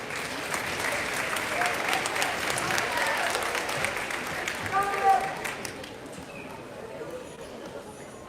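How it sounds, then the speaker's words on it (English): At a middle school winter concert, the audience applauds the student who plays sleigh bells, with steady clapping that fades toward the end as a few quiet sounds follow. "Let's give him a round of applause."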